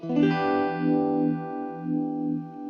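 Guitar played through a vibe pedal set to positive feedback, one sustained chord swelling and sweeping in slow, throbbing, chewy modulation waves as it fades, moderately quiet with no voices.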